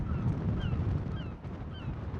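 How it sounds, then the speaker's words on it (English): Faint gull cries sound over strong wind noise and a low, rushing roar on the coast at Downpatrick Head, Ireland. "Here the gulls."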